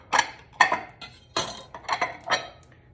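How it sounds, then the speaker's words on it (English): A knife slicing vegetables on a cutting board while prepping a sheet pan jambalaya: six crisp, evenly spaced chops, close and clear, with no voices. "So I'm cutting slices about this size."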